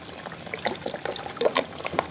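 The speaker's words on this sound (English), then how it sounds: "add some Worcestershire" Worcestershire sauce pours into a Dutch oven holding garlic and onions, a short close splashing trickle with small irregular spatters over a couple of seconds.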